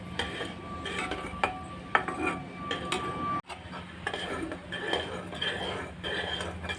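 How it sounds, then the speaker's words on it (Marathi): A spoon stirs a raw green mango chocolate mixture seasoned with rock salt, cumin powder and chaat masala in a pot, giving repeated light metallic clinks and scraping, fairly close, with no talk over it. "तोही चांगला ढवळून घेऊया"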